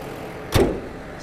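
Hood of a 1997 Toyota Land Cruiser VXR80 diesel, fitted with hydraulic struts, shuts with a single solid thump, close and moderately loud against a quiet background.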